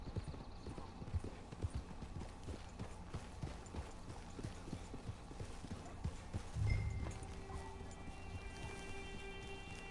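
Horse hooves clip-clop in a steady walking rhythm over quiet ambient background in a video game, with a brief low thump midway; no voices.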